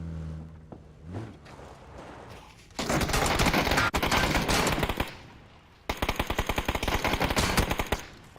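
Video game gunfire opens with a few scattered shots and clicks, then breaks into two long, loud bursts of rapid automatic fire separated by a short pause.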